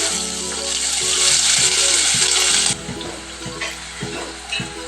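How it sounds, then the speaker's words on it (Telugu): Sliced onions fry in hot oil in a kadai, a loud, dense hiss that eases off partway through, with music playing throughout. "ఆనియన్స్ ఫ్రై అవుతున్నాయి."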